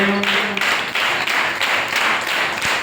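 Rhythmic hand clapping from a church congregation, steady evenly spaced claps, close and prominent with little voice over it.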